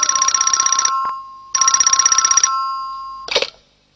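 A telephone rings in a Doraemon cartoon scene, two long trilling electronic bursts separated by a short pause, then the ring cut off abruptly as the receiver is lifted, loud and close with no voices.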